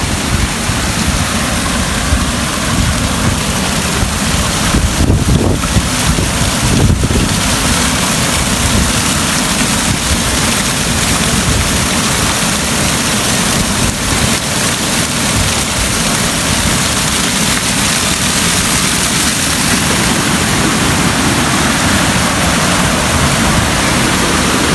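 Fast-flowing rainwater rushes through a stream channel after stormy rains near farm fields, a steady, loud, broadband roar that continues without a break throughout.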